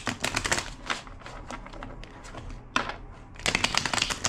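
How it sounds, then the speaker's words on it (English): A deck of tarot cards being shuffled at close range, with bursts of rapid riffling flutter separated by short pauses, repeated a few times. "Two more shuffles."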